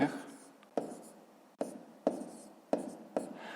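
A math solution for a fifth-grade exercise is written by hand, with faint pen strokes and a few sharp taps spaced about a second apart.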